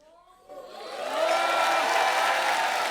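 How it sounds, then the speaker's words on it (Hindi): Studio audience on a Hindi comedy talk show breaking into applause and cheering, swelling from quiet to a steady, dense roar of clapping that holds to the end. "एक बार साजिद भाई के लिए जोरदार तालियां हो जाए।"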